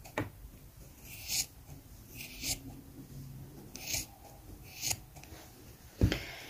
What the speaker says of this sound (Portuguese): Aí eu posso cortar essas rebarbinhas de tecido, ó, de pelos, né?